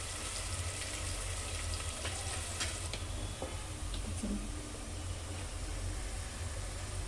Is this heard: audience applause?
no